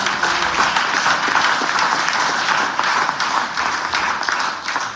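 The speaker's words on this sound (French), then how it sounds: "Applaudissements." A church congregation applauds during a sermon, a loud and unbroken wash of clapping that holds steady and fades slightly at the end.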